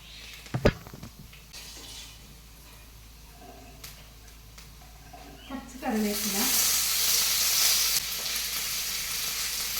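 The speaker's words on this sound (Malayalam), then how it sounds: "പാനിലേക്ക് കുറച്ച് വെളിച്ചെണ്ണ ഒഴിച്ചു കൊടുത്തിട്ടുണ്ട് അതിലോട്ടേക്ക് കുറച്ച് അരി ഇട്ട് കൊടുക്കുന്നത്" Rice hits hot coconut oil in a pan and breaks into a loud, steady sizzling hiss partway through, after a quieter stretch of light kitchen clatter and handling.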